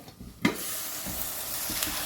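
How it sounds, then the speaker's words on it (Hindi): Cauliflower roasts in its own water in a pan over a low to medium flame, giving a loud continuous sizzle and hiss, with a sharp clatter at first and a few soft stirring scrapes. "देखिए अपने ही पानी में इसको मैंने पकाया और इसी पानी में ये अच्छी तरह से भुन गई है"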